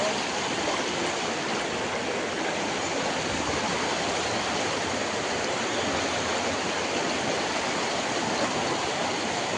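Floodwater rushes fast over a submerged road during the Hailakandi flood, a steady, loud broadband roar of surging water that holds unbroken from start to finish with no voices.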